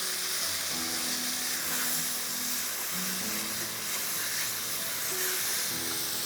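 Minced qeema frying in a pan as yogurt is added bit by bit, a steady loud sizzle and hiss with soft scraping of stirring beneath, continuing without any talk.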